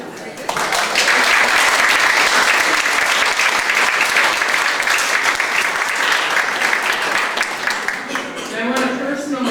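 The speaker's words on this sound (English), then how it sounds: "I think that Uncle Garrett's family and Aunt Katie's family deserve a round of applause for all the work" Applause at a family reunion, a crowd clapping steadily and fairly loudly for several seconds, starting abruptly and tapering toward the end as a voice comes in.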